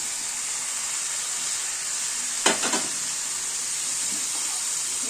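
Fried broccoli, potato and carrot go into sizzling cooked-down masala in a pan: a constant bright hiss of hot oil, broken midway by a short burst of clatter and spitting as the vegetables drop in.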